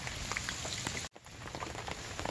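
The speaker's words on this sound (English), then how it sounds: "The rain's continuing to fall pretty good." Steady pouring rain on a river during a wet paddling trip, a dense close hiss of drops hitting water that continues unbroken apart from a brief cut.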